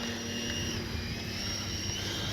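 A Freewing Zeus 90mm 6S electric RC jet taxis into position for takeoff, its ducted fan giving a steady, loud, high whine with a constant tone throughout.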